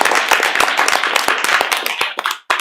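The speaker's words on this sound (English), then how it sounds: "So let's give them a round of applause." Close, uneven hand clapping from a small audience at a town board of aldermen meeting, with individual claps standing out before it thins and stops.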